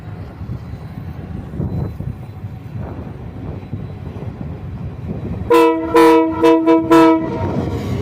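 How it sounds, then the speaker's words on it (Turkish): A loud freight train horn from a TCDD D33 089 locomotive departing Germencik station sounds in several short blasts over steady rumbling rail noise, the horn tones stacked and harsh, starting partway through. "Bir daha kornaya basın şefim"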